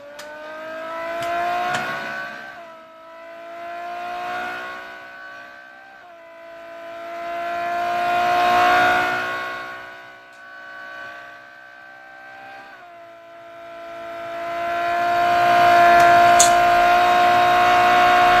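A Ferrari 599 GTO in the Real Racing 3 mobile game, its engine note rising through the gears in repeated sweeping climbs and drops under braking, a synthetic-sounding high whine, loud and steady with no talking.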